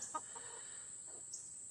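Chickens clucking inside a backyard coop, a few faint short clucks at a distance over a steady high-pitched insect-like hiss.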